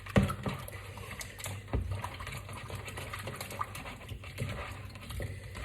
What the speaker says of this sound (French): donc je rince bien